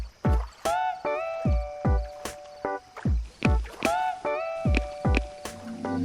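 In a cartoon, a rowboat nears across the water with a steady rhythm of watery plops and splashes, like oar strokes, roughly twice a second. The effect is clear and fairly loud, with no voices.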